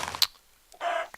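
Chickens cluck in a Minecraft game, two short clipped bird calls separated by a brief quiet gap, fairly close and clear.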